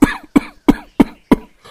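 An elderly man, a father-in-law, coughs five times in a steady rhythm, each harsh bark close and loud with short silent gaps between, heard alone.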